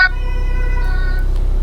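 A siren on a 2021 BMW M4 (G82) in BeamNG.drive sounds a steady, tonal electronic wail over a constant low rumble, loud and continuous without any speech.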